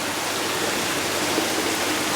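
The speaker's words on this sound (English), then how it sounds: "The water gets pumped in." Water is pumped into a fish house tank, producing a steady, continuous rush and splash like a small stream, close and unbroken throughout.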